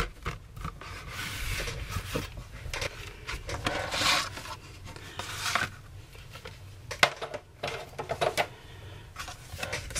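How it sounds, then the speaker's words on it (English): A Big Shot die cutting machine embossing paper for a card, with irregular rubbing, creaking and clicking as the plates are cranked through, sounding close and unaccompanied by talk. "I'm going to take this to the Big Shot, or you can take it to any of your die cutting machines"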